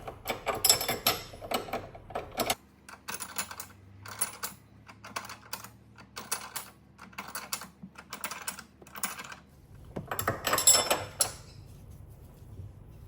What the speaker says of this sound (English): we'll come back with our box end wrench. There we go. And tighten.